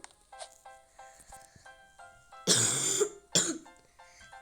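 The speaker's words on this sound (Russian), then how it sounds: "опять кашляю" A person coughs twice, close and harsh, with a long rasping cough followed by a shorter one, set against quiet electronic game beeps.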